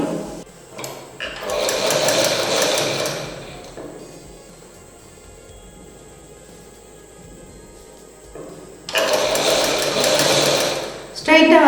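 Sewing machine stitching a hem edge in a tailoring class, two loud bursts of rapid stitching separated by a quieter pause with faint handling.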